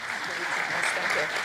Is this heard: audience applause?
yes